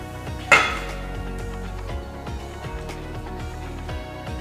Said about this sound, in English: But we're gonna stick them in a saucepan.